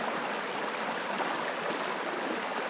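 A river stream flows in a steady, even rush of water that stays at the same level throughout, moderately loud and with no other sounds.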